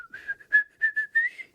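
A person whistles the Peter Pan tune, a short melodic phrase of several clear, bright notes rising and falling, close and alone.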